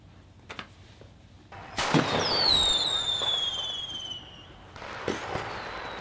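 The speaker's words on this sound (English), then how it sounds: "Fireworks." A firework bursts with a sharp crack, followed by crackling sparkle and descending whistling tones, with faint pops before and after.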